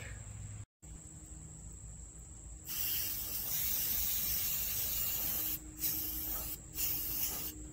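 Krylon Fusion spray paint hissing from a can as an aquarium rock is coated gray, a steady close spray running for several seconds with brief pauses between bursts.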